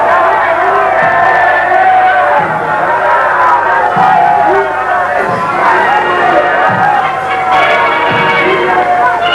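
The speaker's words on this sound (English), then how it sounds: "Huge crowds jostled for choice vantage points all along the route in the hope of seeing the emperor." A huge outdoor crowd waits for the emperor on his Caribbean tour, a loud, continuous roar of voices with scattered cheers and whoops. A narrator speaks over the din.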